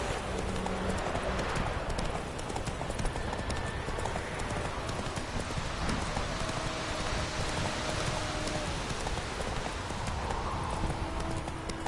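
Horse hooves clip-clopping at a steady pace in the video game Witcher 3, with rain pattering across a surface underneath and a brief whinny, continuous and moderately loud.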